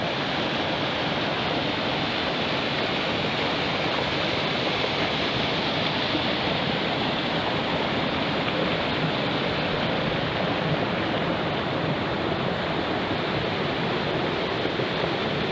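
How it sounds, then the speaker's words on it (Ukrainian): A powerful waterfall roars in a dense, unbroken rush of crashing water, loud and close, with no voices. "Ось і сам водоспад."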